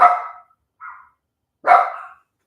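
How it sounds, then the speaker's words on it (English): Two sharp, loud dog barks about a second and a half apart, with a softer yelp between them, nearby and with no voices. "we're going to have dogs barking for a couple seconds"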